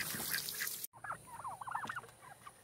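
A mixed flock of turkeys (Bourbon Red, Blue Slate and Royal Palm) calling on a farm kept alongside ducks and chickens: a run of warbling gobbles and yelps at moderate distance, following a burst of busier fowl noise before a brief gap.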